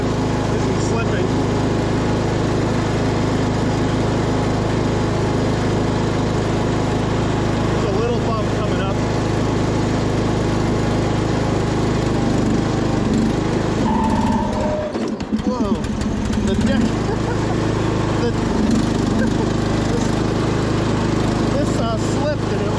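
A 1998 MTD lawn tractor engine drones steadily and loudly while mowing uphill under load, sputtering briefly near the middle before carrying on.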